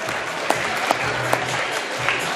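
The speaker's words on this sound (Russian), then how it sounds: "Давайте поаплодируем." An audience at an international talent contest applauds, a dense, steady clapping close by with a few sharper claps standing out.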